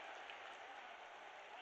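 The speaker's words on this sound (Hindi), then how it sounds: "जोरदार तालियां बजती रहे" Faint, distant applause from a crowd at a public government event in Tikamgarh, India, a continuous even patter heard from far off.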